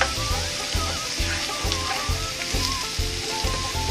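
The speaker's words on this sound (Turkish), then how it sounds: "Bunları bir güzel kavurmamız gerekiyor." Potato börek filling with chili flakes frying in oil in a pan, a steady loud sizzle with rhythmic scraping stirs repeating about every half second.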